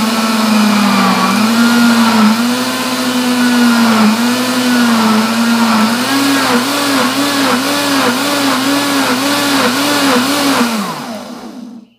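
Blender whirring loud and steady while blending carrots for carrot cake batter, its motor pitch wobbling as the contents churn, then winding down abruptly at the end.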